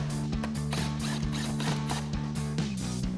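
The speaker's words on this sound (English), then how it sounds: "you can get your 2 10 millimeter screws out with your 10 mil socket on your impact or ratchet." Ratchet with a 10 mm socket backing out screws on a 2021-2025 Ford Bronco during a tail light install, rapid close clicking pawl ticks in quick repeated bursts.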